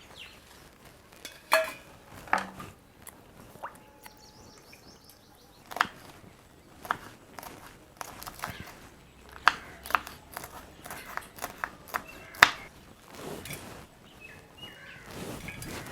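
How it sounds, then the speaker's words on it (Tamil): Green chillies being washed and then cut on a board in a home kitchen, with scattered sharp knife clicks and taps, occasional clatters and a short splash of water among quiet pauses, close and intermittent, with no talking. "நம்ம எடுத்து வச்சுருக்க பச்சை மிளகாயும் கழுவிட்டு கட் பண்ணிக்கலாம்."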